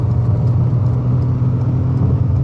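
A Ford Escape's 3-cylinder turbo engine pulls hard to pass on the road, a steady low drone with road and wind noise heard from inside the cabin, with no talking.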